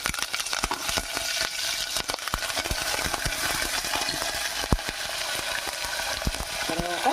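Curry leaves tempering in hot oil, a busy crackling sizzle with sharp pops and spatters throughout, close and steady.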